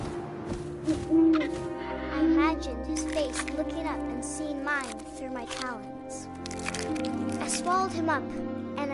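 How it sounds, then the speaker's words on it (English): An owl hoots in the video game What Remains of Edith Finch, several soft tonal calls rising over ambient game sound while a voice speaks throughout. "And suddenly, I was an owl."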